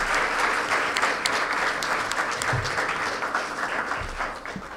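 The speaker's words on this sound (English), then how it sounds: "give a round of applause for our panelists for their effort" An audience at a business forecast conference claps steadily for a panel, a dense patter of many hands that slowly fades a little toward the end.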